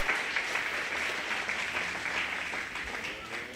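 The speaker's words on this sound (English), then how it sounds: "Let's give all these exhibitors a really nice round of applause on a great intermediate showmanship." Applause from spectators at a 4-H and FFA youth cattle show after intermediate showmanship, moderate steady clapping from a crowd, somewhat distant and even throughout.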